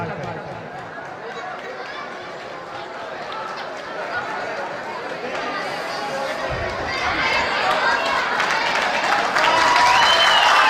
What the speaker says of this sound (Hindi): शोर नहीं करना, सिर्फ ताली बजाना है।